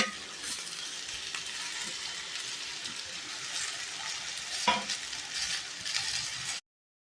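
Brinjal and chopped mixed vegetables sautéing for a veg kurma: a soft, even sizzle with occasional stirring scrapes and one sharper clink, then abrupt silence at the end.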